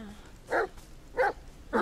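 A dog barks three times in the video game The Medium, short evenly spaced barks about two-thirds of a second apart, close and moderately loud over a quiet background.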